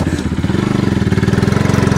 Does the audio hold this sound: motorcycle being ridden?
yes